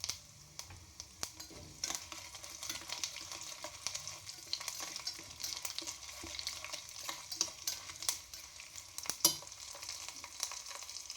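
Mustard seeds, cumin, small onions and curry leaves sizzle in hot oil with a close, steady fizz, broken by frequent sharp pops and crackles as the seeds burst and are stirred.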